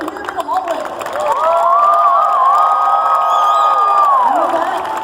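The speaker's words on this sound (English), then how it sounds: "Because honestly, you guys deserve this applause." Audience at a cosplay contest cheering and applauding for cosplayers, a loud sustained crowd roar with whoops swelling after a moment; a voice can be heard along with it.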